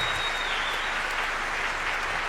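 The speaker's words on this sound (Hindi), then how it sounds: "मैं चाहूंगा एक बार आप अपने लिए जरूर तालियां बजाएं" An audience clapping together, dense continuous applause at steady volume with no voices over it.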